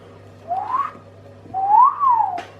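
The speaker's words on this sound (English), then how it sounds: "That whistle did not do these burgers justice." A person whistles two rising-and-falling tones in a row, the second longer and sweeping up then down, clear and close against a low steady hum.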